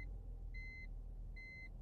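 Two short electronic chimes from a car, evenly spaced about a second apart, over a low steady engine rumble inside the vehicle, with no talk.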